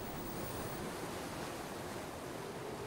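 Waves wash over a barge at sea under a southerly wind, a dense continuous roar of surf and spray, steady and fairly loud with no voices.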